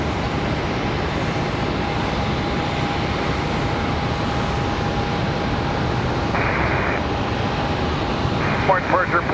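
An American Airlines Boeing 737-8 departs Charlotte Douglas International, its jet engines producing a steady, loud, broadband roar that holds without a break throughout, with a faint sustained tone riding over it.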